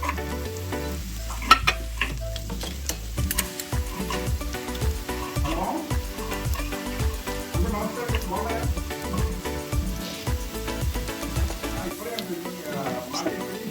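Spices sizzle and fry in a pan for banana flower biryani, with steady crackling and stirring scrapes throughout, close and constant.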